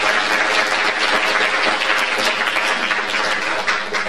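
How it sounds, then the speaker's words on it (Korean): Dense, sustained applause from a seated audience at a girls' high school entrance ceremony, broad and even throughout with no break, filling the hall without voices. "예, 박수 한번 주십시오."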